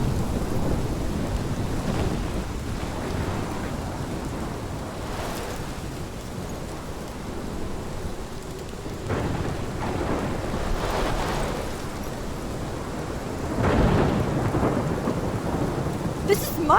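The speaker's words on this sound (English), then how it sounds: "This is my storm." Thunderstorm in the video game Life is Strange: steady heavy rain and wind roar throughout, with deep rumbling thunder swelling several times, strongest near the end, and no talking.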